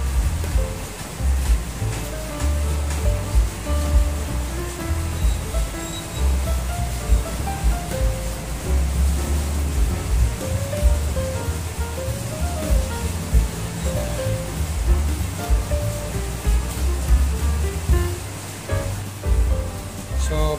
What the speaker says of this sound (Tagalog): Sobrang lakas ng ulan mga kabros.